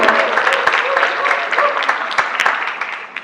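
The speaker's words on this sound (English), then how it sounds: "please stand up and we'll give them a round of applause" An audience claps for two sons standing up at an Arangetram dance recital, a steady burst of applause with a cheer mixed in, lasting throughout.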